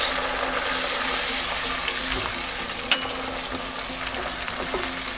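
Garlic ginger paste sizzles in a hot frying pan with tomatoes for a mixed potato, carrot, fenugreek and pea curry: a steady, close crackling fry with a faint stir or clink partway through, no talking.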